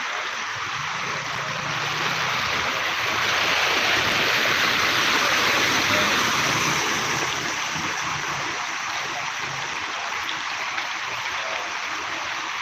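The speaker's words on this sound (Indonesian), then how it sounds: "air sebagai debit air semakin naik dari Sungai Walanai." Floodwater from the Walanae river, swollen and rising beside the Soppeng–Sengkang road, rushes in a steady, loud, broadband roar that swells slightly midway and runs unbroken, with no voices.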